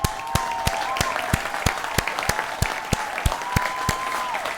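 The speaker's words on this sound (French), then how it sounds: "Vous pouvez vous applaudir pour ça déjà." An audience claps in a steady, evenly spaced rhythm, sharp distinct claps about three per second over a faint sustained tone, with no talking.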